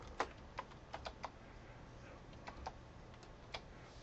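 A computer keyboard being typed on to enter a university ID at a web login page: a handful of quiet, scattered keystrokes with short pauses over a faint room hiss.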